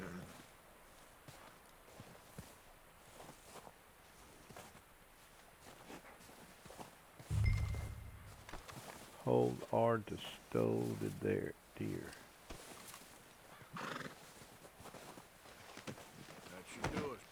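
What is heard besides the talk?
horse approaching and whinnying in Red Dead Redemption 2 video game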